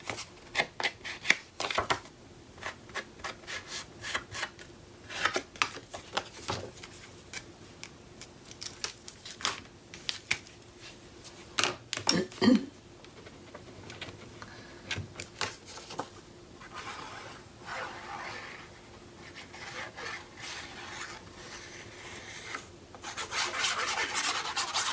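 Freshly trimmed paper edges on a mini album are inked with repeated soft rubbing and scraping strokes, quiet, close and irregular.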